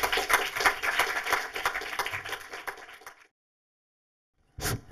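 An audience at a film talk applauds director Klaus Lemke with a brisk burst of clapping that runs for about three seconds, cuts to silence, then briefly resumes.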